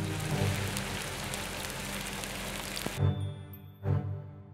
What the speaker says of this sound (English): It was now raining, causing the snow to turn to slush